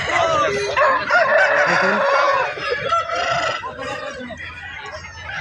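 Roosters and hens crow and cluck loudly and close by at a busy weekly market in Balarampur, with overlapping calls throughout and someone speaking briefly among the birds.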